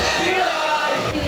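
A large, noisy crowd of about 8,000 people fills the Magic Kingdom at night, a brief, steady roar of many voices mixed together.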